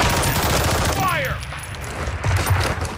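Gunfire in the game Call of Duty Modern Warfare 2, a dense rapid rattle of shots filling the first second, then easing back before picking up again near the end, with voices present.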